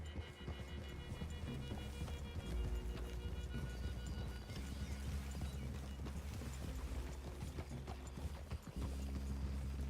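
Horses' hooves clip-clop steadily in a Western video game, loud and close over a low rumbling background.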